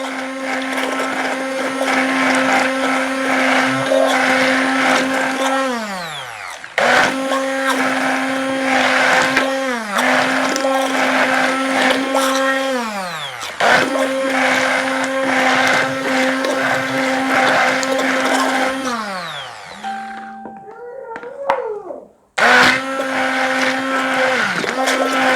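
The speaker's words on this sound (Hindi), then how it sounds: "ब्लेंडर की मदद से हम इसको अच्छे तरीके से थोड़ी देर के लिए ब्लेंड कर लेंगे" An electric blender whirs loudly through soaked chia seeds for a homemade face mask, running in several long bursts that stop and restart, each winding down with a falling pitch.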